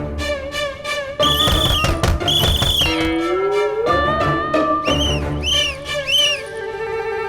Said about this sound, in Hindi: ये कमरे में से सीटी की आवाज आ रही है।